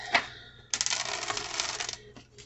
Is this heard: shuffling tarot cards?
yes